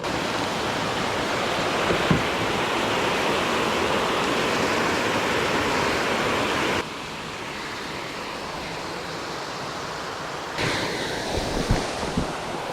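Steady, broadband rushing of a small waterfall at a bass fishing spot, loud and continuous, with wind buffeting the microphone and no talking.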